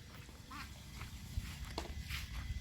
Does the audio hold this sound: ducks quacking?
yes